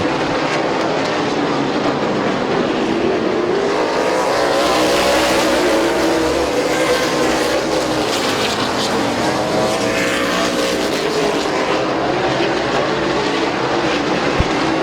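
Race cars roar loudly around the oval at Midvale Speedway's fall classic, engines rising and falling as the pack sweeps past, a dense continuous din with no talk.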